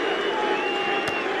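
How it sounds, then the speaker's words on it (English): A cricket crowd at a 2011 England versus India Test in Nottingham cheers for England as the team returns to the field, a loud, steady roar of many voices with a faint burst near the end. "a resounding cheer for England as they come back out again"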